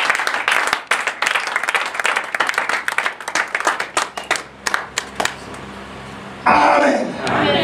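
A church congregation applauds the Lord, with loud rhythmic clapping from many hands in a large room and a few voices calling out before a swell of cheering at the end.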